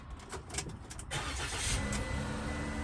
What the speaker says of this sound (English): You just take the key, put it in the ignition with your foot on the brake,